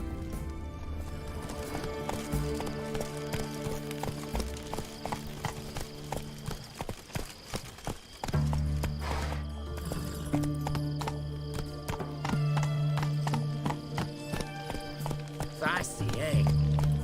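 Roach, the horse in The Witcher 3, trots with a quick, steady clip-clop of hooves over a game music bed, while voices speak over the hoofbeats.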